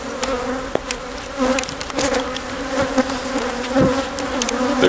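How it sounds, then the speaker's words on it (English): An angry swarm of bees, killer-bee-like, surrounds a bee removal in Godley, Texas, a loud close buzzing drone with sharp ticks and pops as bees strike nearby, no talking. "These are like, this is kind of killer bee-ish."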